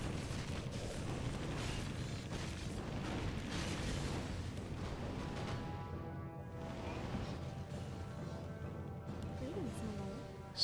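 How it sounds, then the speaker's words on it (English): Fireworks burst in Warcraft 3 Reforged during a Survival Chaos match with the Pandas faction, a dense, steady run of loud cracks and booms layered over battle noise for the full stretch. "Damn, it's fireworks. A few fireworks."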